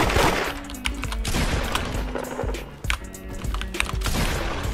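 Repeated shotgun blasts in the Roblox-style game Da Hood, a dense run of sharp bangs over continuous game noise and music, loud and close throughout.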